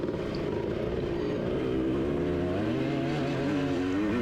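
A motocross dirt bike engine drones during a race at Ashcraft's, a steady buzzing exhaust note that climbs in pitch as the rider winds it out, heard from the bike itself without talk.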